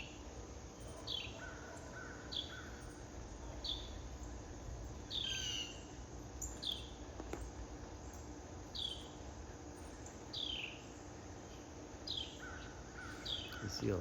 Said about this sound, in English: I mean, we got lots of birds. Yellow finches, cardinals, plenty of squirrels.